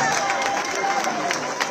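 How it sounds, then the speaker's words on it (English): Audience applause for President Tinubu at a funeral gathering, a steady wash of clapping throughout, moderately loud and crowd-wide. "can make it a clap for him, please."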